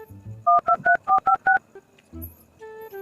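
A telephone keypad sends out a quick run of six dialing tones, each one a short, loud beep with steady gaps between them. Faint background noise follows, along with a brief low thump.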